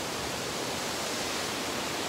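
Steady broadband rush of a waterfall beside the Cibodas trail on Mount Gede Pangrango, a close, even roar of falling water with no voices.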